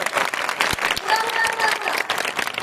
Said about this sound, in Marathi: त्यांच्यासाठी जोरदार टाळी वाजवा